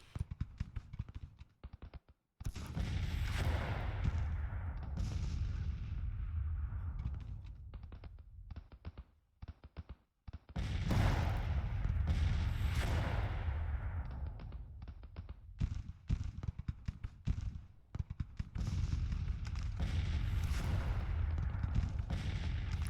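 Dense, loud rolling artillery fire in a Civil War battle game, heavy booms and rumbling volleys in long bursts with brief quiet gaps between them.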